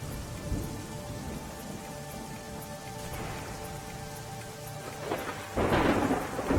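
Heavy monsoon downpour pours steadily with rolling thunder rumbling through, swelling louder toward the end, no voices present.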